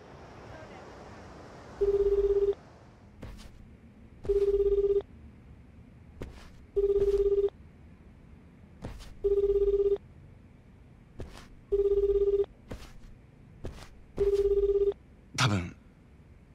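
A smartphone rings in the Yakuza 8 video game, its electronic ringtone pulsing in seven short evenly spaced bursts roughly every two and a half seconds over quiet background ambience, ending with a brief click.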